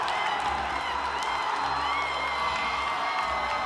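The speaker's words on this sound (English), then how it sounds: "Getting the crowd hyped up there." Crowd cheering and clapping at a men's NCAA gymnastics meet after a dismount, a steady wash of whoops and applause filling the arena throughout.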